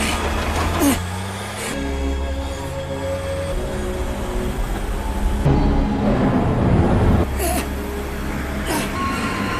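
Truck driving in a film scene, a continuous loud low engine rumble and road noise with occasional sharp hissing bursts and rattles layered over it.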